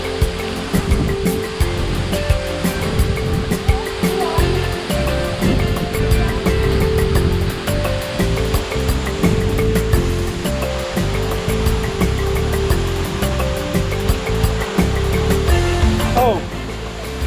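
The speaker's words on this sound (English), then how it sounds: "that's Owu Waterfall." Owu Waterfall in Kwara State, Nigeria, roars as a loud, steady rush of falling water, broadband and continuous throughout, with faint voices now and then underneath.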